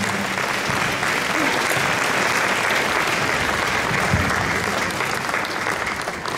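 Audience at an anniversary award ceremony gives sustained, dense applause throughout, loud and steady from start to finish with no talking over it.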